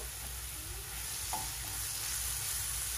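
Smoked sausage frying with green seasoning in a pan, a steady close sizzle that runs the whole time with no talk.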